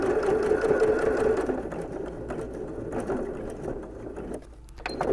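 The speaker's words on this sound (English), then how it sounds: "let's go ahead and sew this in place" A sewing machine runs steadily while stitching a small rectangle around an apron strap, a loud close mechanical whir that slows and briefly stops near the end.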